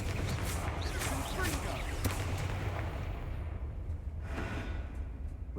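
Confringo fire spell blasts in the Hogwarts Legacy video game, a dense run of sharp, punchy bursts and crackling impacts over a rumbling battle bed, loud and close, with some talk mixed in.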